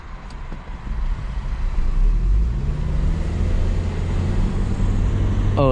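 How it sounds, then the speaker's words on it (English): A passing car accelerates hard on a road near a car dealership, its engine rising into a steady, loud low roar heard from inside another vehicle over constant road noise. "Oh, he's gassing it."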